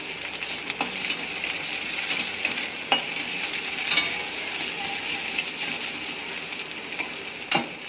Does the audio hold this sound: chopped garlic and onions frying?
yes